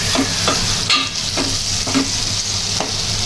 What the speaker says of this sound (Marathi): मसाल्यामध्ये मस्त आपली कालवं ना मिक्स करून घेऊ